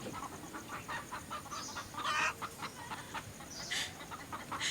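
Chickens cluck in short, scattered bursts around a village house where cows are kept, the calls fairly close and moderately loud over a steady rustling outdoor background.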